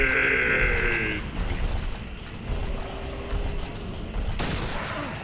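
Silent Hill 2 gameplay on Hard difficulty: a monster lets out low, raspy grunts through dense, noisy game ambience, and a single sharp gunshot cracks near the end.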